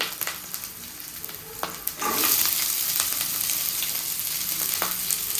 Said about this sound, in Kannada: ಈರುಳ್ಳಿ ಗೋಲ್ಡನ್ ಬ್ರೌನ್ ಕಲರ್ ಆಗಬೇಕು, ಅಲ್ಲಿವರೆಗೂ ಫ್ರೈ ಮಾಡ್ತೀವಿ